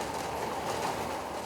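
An MRT3 train on the Metro Manila rail line gives a steady, loud rolling rumble with a hiss of wheels on track, close and continuous throughout.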